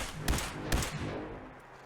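Two heavy shotgun blasts fired from the hip in Fallout 4, each a booming report with a lingering tail, the pair spaced about half a second apart and then fading.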